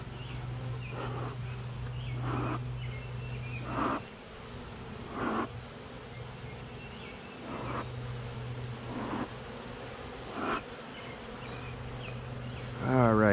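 A steady drone of many buzzing honey bees fills the air close by, with occasional louder swells as individual insects pass near.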